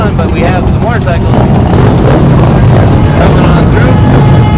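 Motorcycles at the 2019 Veterans Day parade in Lake Havasu City, Arizona, rumble past in a loud, steady engine drone, with voices and crowd noise mixed in.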